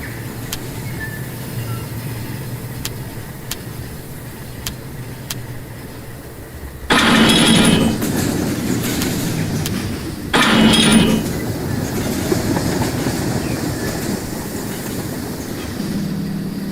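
A train of boxcars rolls along in the Rolling Line game, a steady rumble with faint ticking clicks, swelling twice into louder bursts of metallic clatter and clinking.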